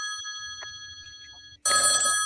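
A telephone rings with a steady electronic tone over a low background murmur, then a louder, harsher burst of ringing cuts in near the end, close and prominent.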